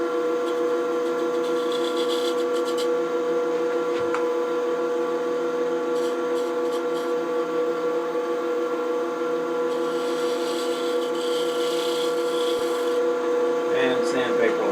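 A skew chisel cuts the edge of a wooden box spinning on a lathe, giving a steady rasping hum that runs throughout, loud and close, with a few brief scrapes.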